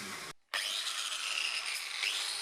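A rotary tool spinning wire wheel bits scrubs metal in the engine bay of a BMW E30 325 Touring, a steady high whine and gritty scraping after a brief pause, close and alone.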